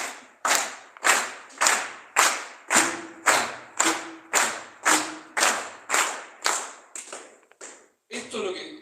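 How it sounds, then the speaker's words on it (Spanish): A group of people clapping together in unison, about a dozen loud, evenly spaced claps at a steady pulse, trailing off into a few scattered claps and stray voices at the end. "si todos aplaudimos, vamos a seguir un ritmo"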